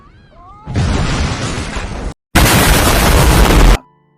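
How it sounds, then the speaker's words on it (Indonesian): A car bomb explodes in a film scene: a loud, roaring blast lasts over a second, breaks off briefly, then a second heavy burst follows before cutting to quiet. A faint high mewing tone comes just before the first blast. "akhirnya bom pun meledak"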